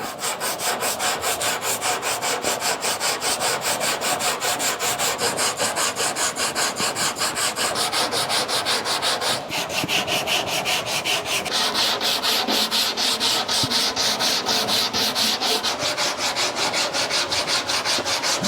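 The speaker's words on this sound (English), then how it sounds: "Do it very light with 80 grit and follow with 120." Steady rhythmic hand block sanding of primer on an aftermarket 1970 Chevelle hood with 80 grit paper, continuous close rasping strokes at even loudness, alone with no talk.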